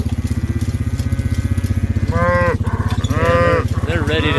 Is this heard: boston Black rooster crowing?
no